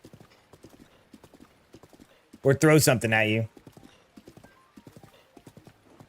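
Horse hooves clip-clop in a steady trot in a Zelda video game set in Hyrule, with a short neigh partway through, heard beneath someone talking.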